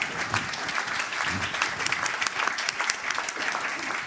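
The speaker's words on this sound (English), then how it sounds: "A big round of applause then?" A conference audience in Prague gives sustained, dense applause filling the hall at an even level from start to finish.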